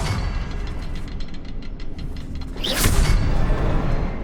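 Confringo fire spell explosion in Hogwarts Legacy: a rumbling, booming burst with a sharp whooshing flare partway through, loud and close over a low continuous game rumble.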